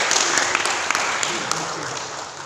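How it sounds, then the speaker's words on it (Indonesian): A seminar audience at a university venue bursts into brief applause for a guest, loud at first and fading over a couple of seconds. "Tepuk tangan buat beliau."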